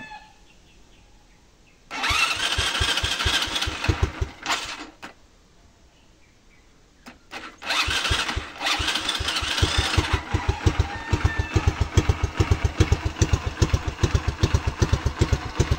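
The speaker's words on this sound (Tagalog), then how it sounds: "So yun, susiyan muna ng CDI, start natin yung motor." A motorcycle fitted with a programmable CDI cranks, catches briefly and dies, then restarts and settles into a steady, rapid thumping idle, loud and close with no talking.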